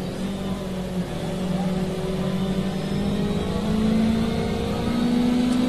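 A small, stable race car on the Dubai Autodrome GP circuit in a racing game holds a steady engine drone that climbs gradually in pitch as it accelerates, continuous and fairly loud. A faint voice may sit underneath.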